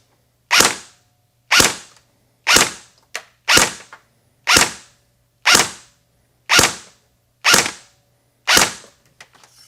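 A KWA VM4 X-10 airsoft electric rifle fires nine evenly spaced single shots through a chronograph, each a sharp, loud crack with a quick decay, close by and with no voices.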